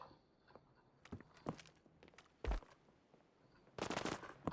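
Sharp bursts of video game gunfire crack out in scattered shots, ending in a rapid loud volley, with faint footsteps between.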